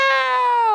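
A gray kitten gives a single drawn-out, high, rising-then-falling meow, loud and close, while biting.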